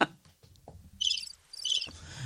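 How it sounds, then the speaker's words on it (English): Crickets chirping faintly in short high bursts in a quiet outdoor night setting in Brisbane, Australia, with soft low background noise between the trills. "Where's the crickets?"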